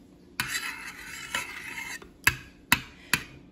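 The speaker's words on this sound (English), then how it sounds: "And I'll just stir it around." A spoon stirs a warm mixture in a metal pot for Swedish cinnamon rolls, sounding as scraping swishes followed by several sharp clinks against the pot's side, close and clear.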